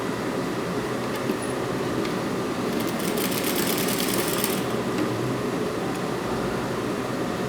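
A sewing machine runs steadily and close, stitching the skirt of a printed child's dress, a continuous whirring drone that holds for the whole stretch with no pause and no talking.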